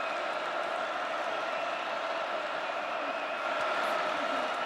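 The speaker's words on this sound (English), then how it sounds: "And this Kansas crowd is getting into it." Kansas home crowd at a college football game against Iowa State, a steady broad wash of cheering and noise throughout, loud and continuous with no distinct breaks.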